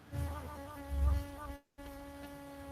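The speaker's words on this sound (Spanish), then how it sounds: "tiene que matar a esos mosquitos" Mosquitoes whine close by with a thin, steady insect buzz and a sustained tone; it is briefly cut off near the middle and then resumes, with no talk over it.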